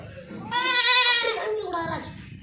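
A goat bleats loudly and close up in one long wavering call, then a shorter one, while being given deworming medicine on a farm.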